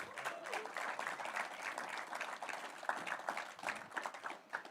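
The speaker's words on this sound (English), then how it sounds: "Give a round of applause for the phenom, Marcio Barbosa." Applause at an arm wrestling press conference, a dense, steady patter of many hands clapping for nearly five seconds, moderately distant and tapering toward the end.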